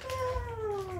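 A house cat gives a single clear meow at close range, its tone gliding downward over about a second indoors, with no talking over it.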